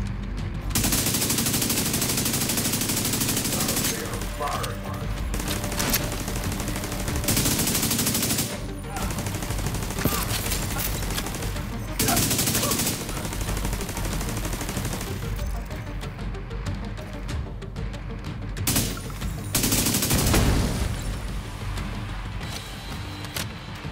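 Heavy enemy gunfire in the shooter The Division 2, repeated bursts of automatic fire and single shots crackling loudly for long stretches with short quiet gaps between volleys.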